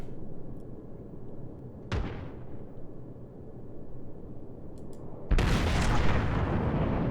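Heavy warship gunfire and shell impacts in the World of Warships naval battle game: a sharp boom near two seconds over a constant low rumble, then a louder, sustained broadband blast near the end.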